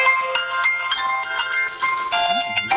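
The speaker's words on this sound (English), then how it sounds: "Phone calls coming in like crazy" A phone ringtone for an incoming call plays loud and close, a bright synthetic melody running unbroken for a few seconds with no voices.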